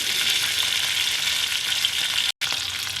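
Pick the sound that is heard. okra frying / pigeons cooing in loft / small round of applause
okra frying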